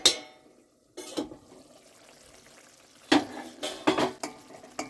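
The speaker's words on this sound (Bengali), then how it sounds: "এবার ঢাকনাটা খুলে দেখে নেব" A metal cooking pot of simmering fish curry with potatoes is uncovered, with sharp clanks of the lid against the rim and a few scraping knocks spread over several seconds, close and fairly loud.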